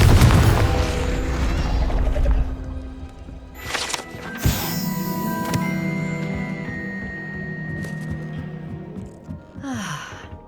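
A Confringo blasting curse goes off in Hogwarts Legacy near an old telescope, a sharp blast at about four seconds with a ringing magical tail and sparkling hiss, amid other spell effects and a low rumbling background.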